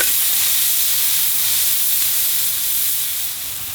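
Deer tenderloin sears in a smoking-hot seasoned cast iron skillet, giving a loud, steady sizzling hiss that fills the whole stretch and eases slightly near the end, with no talking.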